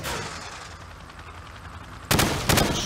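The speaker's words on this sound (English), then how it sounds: "Now, shoot at the targets while firing from the hip." Two sharp, loud bursts of hip-fired gunfire at targets in Call of Duty: Modern Warfare, about half a second apart, crack out after a stretch of steady background rumble.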